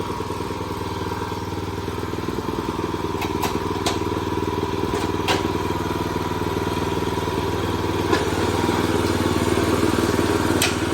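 Kubota TG550 walking tractor engine running steadily and close, a continuous low chugging drone with some clatter and a few sharp metallic clicks over it, with no speech.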